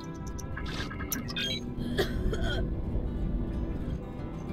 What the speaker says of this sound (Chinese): 全武怎么还在咳嗽？